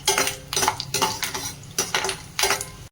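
Urad dal frying in a pan for Andhra-style mango pulihora, with peanuts and chana dal, heard as loud repeated metallic scraping and clinking of a spoon against the pan in uneven strokes, close up, with no talking.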